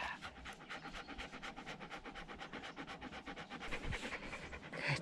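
Alaskan Husky sled dogs panting hard after a run, a quick, steady rhythm of close, breathy huffs that continues throughout with no talking.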